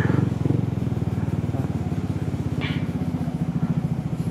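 Motorcycles queuing at a busy Shell petrol station idle close by with a steady chugging engine rhythm, and a brief faint voice cuts in near the middle.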